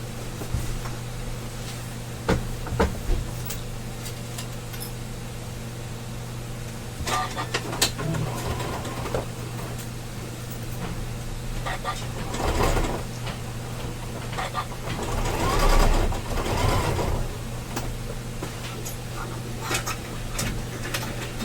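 A sewing machine stitches a wire frame bag, a steady motor hum running throughout with scattered clicks and short louder bursts as the stitching continues.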